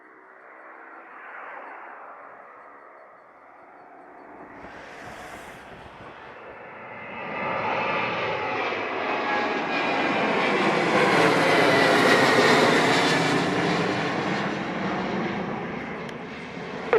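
A jet airliner takes off from runway 07 at Sangster airport in Jamaica, its engine roar swelling from a steady whine into a loud, broad rushing thunder that builds and holds as it climbs away, with no talking.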